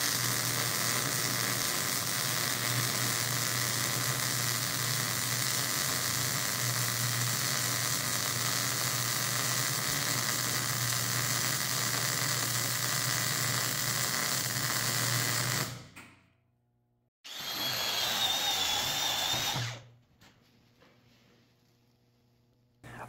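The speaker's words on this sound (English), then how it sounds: "I'm going to put down a 2-inch weld here." MIG welding lays down a 2-inch bead with argon/CO2 mix shielding gas, a steady close crackling sizzle that runs continuously for about sixteen seconds, then stops, followed by a short hiss burst and quiet.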